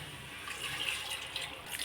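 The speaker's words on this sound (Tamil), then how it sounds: "இப்போ தேவையான அளவு தண்ணி ஊற்றிக்கலாம்" Water is poured into a pot of Madurai-style pepper chicken gravy, giving a soft, steady splashing stream at close range, faint but continuous.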